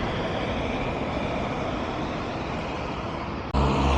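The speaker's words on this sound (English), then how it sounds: "I can hear the cars, I can still hear a bit of wind" Road traffic heard while cycling in Belfast, a steady broadband roar of passing cars mixed with wind rush, continuous and fairly loud, with a sudden jump in level near the end.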